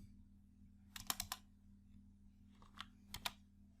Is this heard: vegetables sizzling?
no